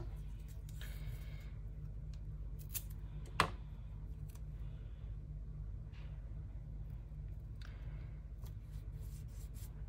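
Scissors snip paper for a 3D scrapbooking card, giving soft, faint scraping cuts over a low steady rumble, with one sharper click partway through.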